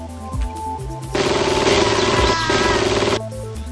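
Weapon fire aimed at robots in the video game System Shock, a loud, harsh, buzzing burst lasting about two seconds that rises over a droning electronic game soundtrack, then cuts off.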